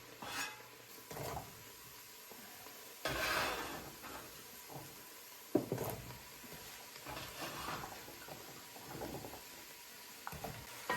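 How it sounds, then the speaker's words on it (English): Potatoes tipped into a pot of homemade corn chowder, with scattered clatters, scrapes and stirring knocks against the pot that come and go over a low, steady kitchen background. No one speaks. "now we're gonna add the potatoes in"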